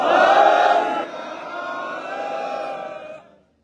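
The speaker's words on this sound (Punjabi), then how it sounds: "ਆਪਾਂ ਗੱਜ ਵੱਜ ਕੇ ਜਕਾਰਾ ਲਾਵਾਂਗੇ ਬੁਲੰਦ ਆਵਾਜ਼ ਜਵਾਬ ਦੇਣਾ" Large crowd at a public hearing in Punjab roaring a Sikh jaikara response in unison, one loud sustained collective shout that fades out near the end.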